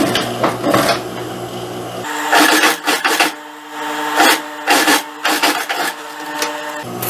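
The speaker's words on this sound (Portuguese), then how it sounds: "Coloco um aqui por cima da outra e passo a costura nessa parte aqui de cima" A sewing machine stitches the waistband of pantacourt trousers in several short, loud mechanical runs separated by brief pauses and handling noise.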